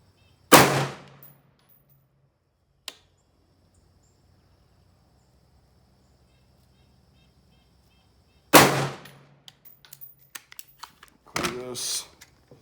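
Shots from an AR carbine at an outdoor range, two loud sharp reports several seconds apart against near silence, with a faint click between them and some handling noise after the second.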